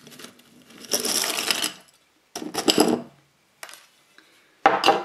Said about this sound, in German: Nun geben wir erst einmal Crushed Eis noch hier rein